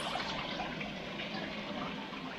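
Water spills steadily over a small drip pan at the back of a small high banker processing gold concentrates, a continuous close trickling wash with no pauses and no voices.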